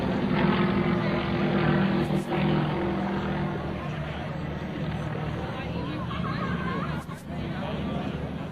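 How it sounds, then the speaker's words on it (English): Two Russian-built Yak propeller aircraft flying at the Cold Lake International Airshow, a steady droning engine roar throughout, under an announcer's running commentary. "Another first for us here to have these two Russian-built Yak aircraft."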